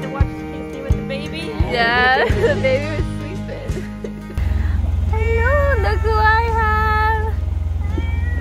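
A cat meows several times, with rising and falling cries, over a steady engine rumble from inside a car, with people talking nearby.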